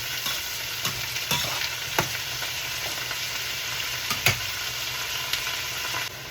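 Onions frying with salt in oil in a pan for a country chicken curry, a loud, steady sizzle close up, punctuated by intermittent spatula clicks and scrapes as they are stirred, with no talking.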